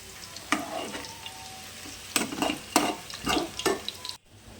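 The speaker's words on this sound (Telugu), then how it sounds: "ఫ్రై అవుతుందండి." Cauliflower pieces frying in oil, a soft background sizzle broken by several louder bursts of stirring and crackling spatter, close by, ending abruptly.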